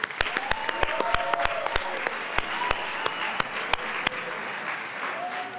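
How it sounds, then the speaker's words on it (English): Members in a legislative chamber applaud Boy Scouts welcomed in the gallery, a sustained patter of many hands punctuated by distinct loud nearby claps, with faint voices murmuring underneath. "Let's give them a round of applause."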